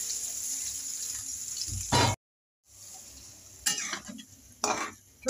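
Fish being stirred and mixed with onion, ginger-garlic paste, chili, turmeric and salt in a pot, soft scraping and wet shuffling with a few sharp utensil clatters against metal, broken by a short silence.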